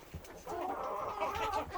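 Hens in a backyard chicken coop cluck softly and close by, a short burst of low murmuring calls and fowl chatter, quiet overall with some background rustle.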